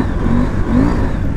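A KTM 890 Adventure R motorcycle engine revs hard while its rear wheel spins on loose ground, a steady mid-pitched drone with rising whine, fairly close and continuous.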